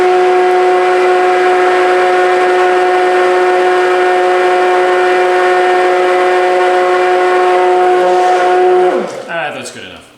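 An immersion blender mixing Keto Chow in a pitcher of water gives a loud, steady, high whirring whine that runs evenly for several seconds, then winds down with a brief falling rattle as it stops.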